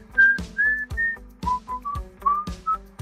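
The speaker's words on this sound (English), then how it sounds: "I get to be the person who whistles." A person whistles a melody, clear sustained notes in short phrases, close and loud with no talking.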